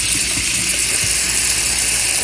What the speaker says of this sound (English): So then you're literally just putting water in it, kind of submerge it